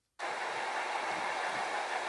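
Union Pacific 844 steam locomotive cresting the hill grade at Kamela, a loud sustained roar and hiss that starts abruptly and rumbles on steadily without a break.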